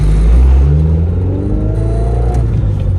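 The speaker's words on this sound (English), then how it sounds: "every time I tried to shift into second, I had to kind of just like ram it in there because it would not go in." A Honda Civic EG hatchback with a D-series engine and a transmission refusing second gear drones steadily at close range, its revs rising slightly as a shift is attempted, with no talk over it.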